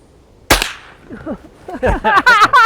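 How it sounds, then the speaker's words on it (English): A single sharp .22 rifle shot cracks at a target outdoors in the Alaskan wilderness, followed by people talking close by. "take a 22 shot at that circle as well"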